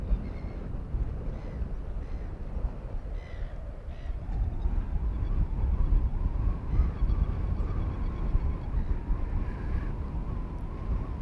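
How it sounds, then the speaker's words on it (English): Seagulls call on a windy slope where a model glider flies, harsh honking cries repeated at a distance over strong, continuous wind rumble. "Come the seagulls, I wonder if they'll say something about it."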